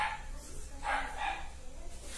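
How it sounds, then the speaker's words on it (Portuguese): Several dogs bark angrily at people passing in the street, a burst of barks near the start and another around the middle, heard from a short distance. "Olha os cachorros, gente, como tá todos bravos, porque tem gente na rua."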